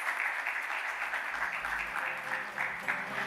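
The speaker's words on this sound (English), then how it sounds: "Ladies and gentlemen, please have a big round of applause" Audience at a company shareholder meeting applauding an award winner, a steady wash of clapping at moderate level under faint background voices.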